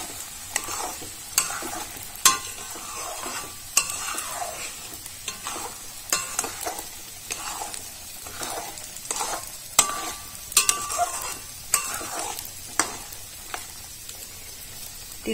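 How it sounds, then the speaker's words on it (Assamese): Sesame seeds dry-fry in a pan while being stirred, giving soft sizzling with repeated scraping strokes of the spatula at a steady rhythm, close and fairly quiet with no talk. "তিলখিনি দি পেলাই অলপ সময় ভাজিব লাগিব"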